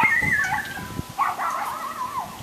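A young puppy whimpers and whines close by in a few high, wavering cries, one short burst and then a longer drawn-out whine.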